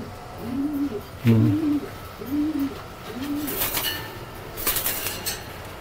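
Pet pigeons kept outdoors in rain or shine coo in a soft, repeated series of low, rolling calls, close by, with faint background hiss and a few brighter sounds near the end.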